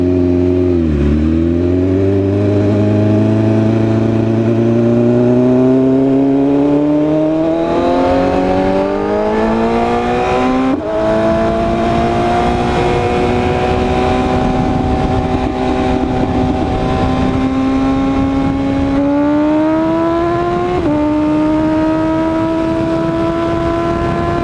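Nissan GTR engine heard from inside during a ride, loud and steady, rising through gears in long sweeping pulls with brief drops at each shift, droning continuously without talk.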